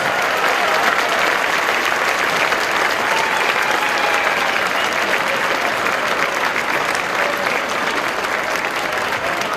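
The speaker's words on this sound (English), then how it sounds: "let's give them a huge round of applause" A large crowd at an afternoon alumni event gives a long, loud, sustained round of applause, a dense continuous roar of clapping with faint cheering mixed in.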